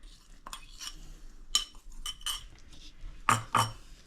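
A spoon stirs kheer made with date-palm jaggery in a metal pot over a low gas flame, giving several clinking scrapes spaced irregularly, with two sharper knocks near the end, close and fairly faint.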